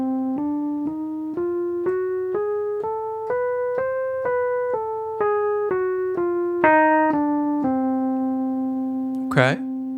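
Again a whole-half diminished scale starting on concert C, evenly played note by note up and back down, ending on a long held note followed by a brief sharp click near the end; no voices.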